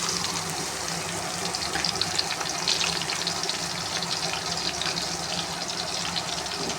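Steady, dense sizzling and hissing as garlic and green chili paste fries in a hot pan with browned onions, continuous and fairly close throughout.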